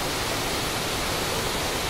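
A waterfall pours in a steady, loud, unbroken rush of broadband water noise that fills the whole stretch, alone and without voices.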